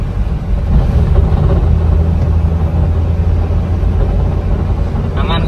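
A Toyota Avanza engine, tested after an engine and exhaust overhaul, is held at raised revs: a loud, steady low rumble that drones on with little change, heard close to the car.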